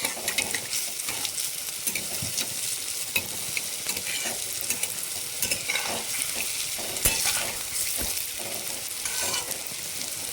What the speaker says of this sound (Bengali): একইভাবে প্রত্যেকটা বিউলির ডালের পকোড়াকে ভালো করে ভেজে নেব।